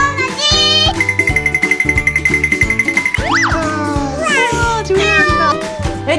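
A hungry pet cat meows near a cat house as treats are handed out; the cries come close and clear over a bouncy musical backing with boing-like effects.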